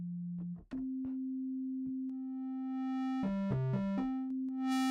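A steady synthesized sine wave tone that shifts pitch in steps, turning buzzier and more harmonic-rich as distortion is added, ending in a harsh burst.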